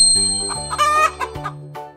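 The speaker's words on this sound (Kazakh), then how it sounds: "Тауық" A chicken makes a short run of clucks and squawks, close and clear, set against a steady ringing chime-like tone with no speech.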